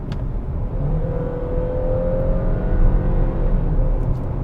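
A 2020 Hyundai Tucson with a 2.4-liter inline-four and six-speed automatic accelerates at full throttle, its engine drone rising steadily in pitch with a whine, heard from inside the cabin without talk.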